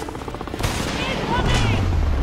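Gunfire and an RPG attack erupt in the Homefront shooter game, with a helicopter nearby. Loud bursts of shots are followed by a heavy boom and a sustained low rumble, all close and dense.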